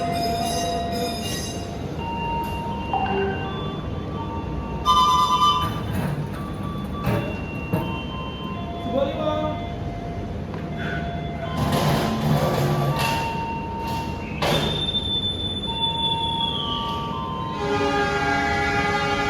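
A passenger train pulls away from Klakah station in Lumajang, East Java, its horn sounding in long tonal blasts over steady rolling rumble and carriage clatter, heard close from on board.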